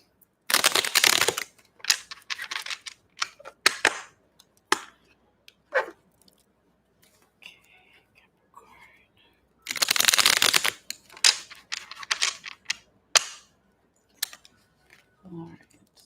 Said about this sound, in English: Let's do maybe two more shuffles